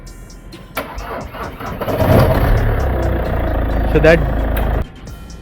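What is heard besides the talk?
Chevrolet Cruze starting with a jerking flywheel noise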